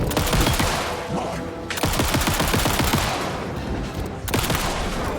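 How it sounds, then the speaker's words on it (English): Rapid pistol fire from the Night Springs expansion game, a pistol that acts like a small machine gun, rattling off dense, loud bursts in three long runs with short breaks between them. "Thank God the pistol the sheriff gave us is basically a little machine gun"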